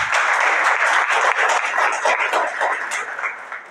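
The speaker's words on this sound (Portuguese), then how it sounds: "Parabirima, salve de palmas" A church congregation at a Brazilian parish celebration applauds continuously for a few seconds, dense clapping fading slightly toward the end.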